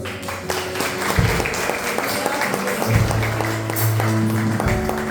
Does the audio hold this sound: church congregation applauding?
yes